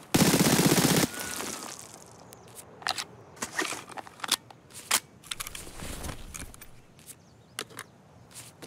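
An MP7 fires in Escape From Tarkov: a loud, dense automatic burst opens, then scattered sharp cracks and clicks follow at irregular intervals.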